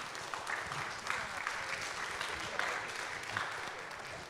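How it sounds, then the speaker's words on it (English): An audience applauds at a next-generation leadership summit at Saint Andrew's School in Boca Raton: dense, steady clapping that fills the whole stretch evenly without fading. "Let's give them a round of applause,"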